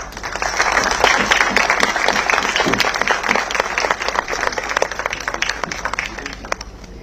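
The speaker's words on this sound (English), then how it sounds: "Please, with a big round of applause." Audience applause at a defence space symposium, a sustained round of clapping from a large crowd that rises quickly and holds steady, dense and fairly loud throughout, with a few sharper individual claps standing out near the end.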